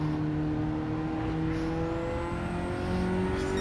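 A Ford Sierra Cosworth engine in Gran Turismo 7 holds a steady, loud drone on the Nurburgring, with the pitch slowly rising as the car accelerates through a gear.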